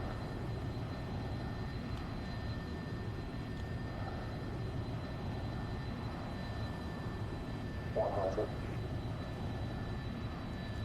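Steady airplane engine drone during a landing approach in a flight simulator game, a constant low rumble with a faint high whine running throughout and a brief soft blip near the end.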